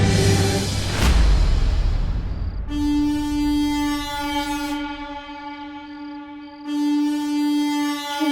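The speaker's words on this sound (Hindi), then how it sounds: "ये तो सांता की हॉर्न पाइप की आवाज है।" A loud, sustained horn blares in two long blasts with a steady harmonic tone, following a rumbling, noisy start.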